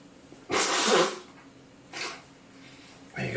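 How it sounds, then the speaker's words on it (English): A person blows their nose in three bursts: a long, loud honk followed by two shorter blasts, close to the microphone, with no talking during it. "I just need to blow my nose."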